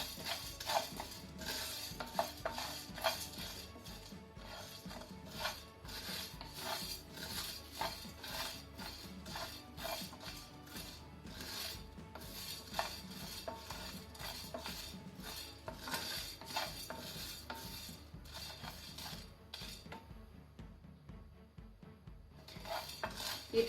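Mustard seeds, cumin and coriander dry roasting in a pan over a medium-low flame, with rapid scraping and clinking of a spatula against the metal and faint crackle, steady and close with no talk.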